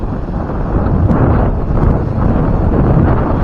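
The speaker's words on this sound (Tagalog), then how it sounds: "Grabe lakas ng hangin ng amihan" Strong northeast monsoon wind buffeting the microphone in heavy, rumbling gusts, loud and continuous with no voices.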